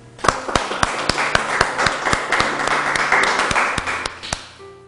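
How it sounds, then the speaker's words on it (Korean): A church congregation claps in appreciation during a Sunday sermon, a run of sharp, evenly spaced hand claps swelling into scattered applause that fades out over a few seconds. "우리 모두 참 어머님께 감사의 박수를 보내주시기 바랍니다."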